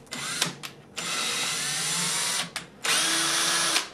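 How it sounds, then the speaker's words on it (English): Power drill boring a hole through a marine fabric top band on a boat, running in two long, steady bursts of high whining grind with short taps and stops in between. "I'm gonna come back later and re-drill another hole because it's all pre-drilled."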